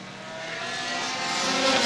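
A 4-cylinder enduro race car, the 9X car, revving hard at Star Speedway, its engine a close, continuous drone that climbs steadily in pitch and loudness, heard alone.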